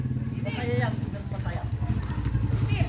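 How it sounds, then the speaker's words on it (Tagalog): A Honda TMX155 motorcycle engine runs close by during a test ride, a rough, pulsing hum heard beneath steady talking. "Pinatest drive na natin yung motor ni kabro from Isabela."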